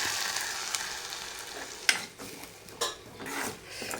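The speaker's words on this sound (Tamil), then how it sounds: "இப்போ அரைச்சி வச்ச கருவேப்பிலை பேஸ்ட்டை அப்படியே ஊற்றிடணும்" Ground curry leaf paste hits a hot pan for a pepper and tamarind kuzhambu, giving off a soft, steady sizzle with a few scattered clicks and scrapes of stirring, quiet and close.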